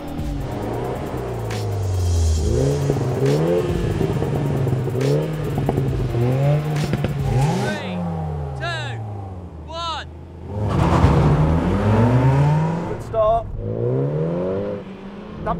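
Several hot hatchbacks, among them a Ford Fiesta ST and a Mini, launch hard off the line in a drag race, with engines revving and rising through gears, loud and close, then more revs and a passing whoosh.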